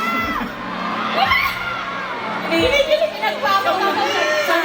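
A mall concert crowd at a Valentine's fan festival shouts and cheers in loud bursts of excited, high-pitched voices, with a person talking over the noise.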